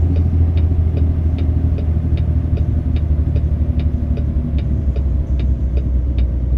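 A truck engine from American Truck Simulator rumbles steadily and low, with a growly drone and faint rhythmic ticking, close and continuous with no talk.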